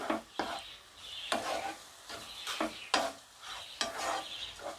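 Grated pumpkin and sugar stirred in a pan, rhythmic scraping strokes of the spoon about once a second over a faint sizzle, close and without speech.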